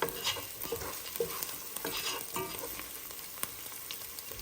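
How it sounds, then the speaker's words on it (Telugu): Onions fry in oil for a mutton curry with a steady, close crackling sizzle and occasional stirring scrapes throughout, with no talk. "సో ఉల్లిపాయలు బ్రౌన్గా వచ్చేస్తున్నాయండి"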